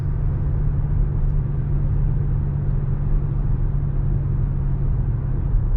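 A car drives along a road in Maryland, heard from inside as a loud, steady low engine and road rumble with no change in pace and no voices.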